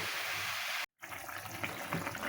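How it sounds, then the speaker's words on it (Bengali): Water is poured into a pan of frying bottle gourd and lentil dumplings, giving a close, steady hiss and splash. A brief break comes before a rougher bubbling sizzle. "একটু নাড়াচাড়া দিয়ে আমি জল ঢেলে দেব। এখন জল দিব।"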